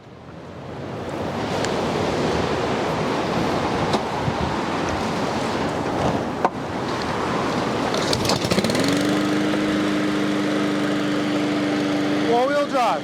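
Honda lawn mower picked from the trash, running with a steady, loud roaring engine drone, then a higher sustained tone joins and it rises briefly at the end.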